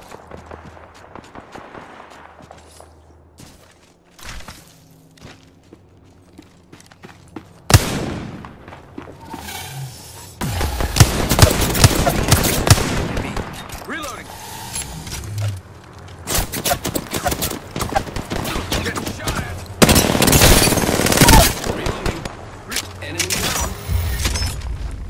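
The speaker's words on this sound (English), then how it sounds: "Opening fire." Bursts of automatic gunfire in the Apex Legends battle royale, starting quiet with footsteps and then erupting into loud sustained rapid shooting with brief pauses, while voices talk intermittently.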